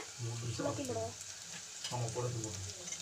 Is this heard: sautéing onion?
yes